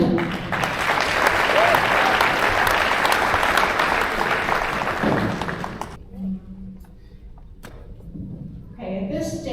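An audience at a Republican state legislator candidate forum breaks into loud, sustained clapping that fades after several seconds, followed by a voice speaking over the quieter room.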